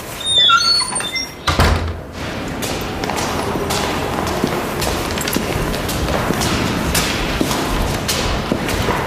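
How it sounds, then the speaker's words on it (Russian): A door is pulled shut indoors, a short thud with a faint squeak and clatter early on, followed by a steady low room hum for the rest. "И дверь закрой."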